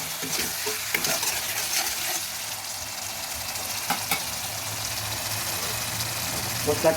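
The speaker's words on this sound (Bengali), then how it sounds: "জল দিয়ে মশলাটা ভেজে নিচ্ছি" Spice paste sizzles with a little water in a pan for a kabuli chickpea curry, steady frying hiss broken by stirring scrapes and taps, with a voice faintly present underneath.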